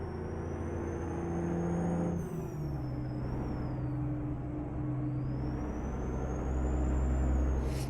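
In American Truck Simulator, a truck engine drones steadily at close range while an air brake hisses sharply near the middle and again at the end, and a high whine rises and falls above the engine, with no talking.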